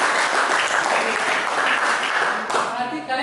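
Classroom applause from a group of students, dense steady clapping for about two and a half seconds before tapering off, with some voices mixed in.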